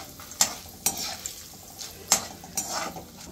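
Dried red chillies sizzle and fry in hot oil in a pan as ragi upma is started, with a few sharp metallic stirs and clinks of a spoon against the pan over a steady low crackle.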